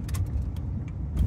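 A car engine left idling at a flea market, with a steady low rumble running throughout and light clicks and rattles on top.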